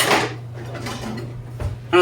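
Drained peas and maize being stirred into a pot for Kenyan mukimo, with a few close clinks and scrapes of a utensil against the metal pot at the start and end, quieter shuffling between.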